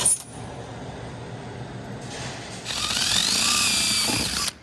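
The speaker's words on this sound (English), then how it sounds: "So quite simply, just gonna drill the hole" A 1/4 inch Matco Hyper Step drill bit bores through plastic trike fender trim, a power drill whirring up to a steady high whine for a couple of seconds before stopping abruptly. Shop background sounds sit quietly underneath.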